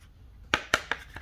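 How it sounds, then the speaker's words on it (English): Thin protective plastic film peeled off a clip-on plastic wrist rest for a Roccat Vulcan Pro keyboard, giving three or four short crisp crackling tears close up in a quiet room. "Let's peel that plastic off."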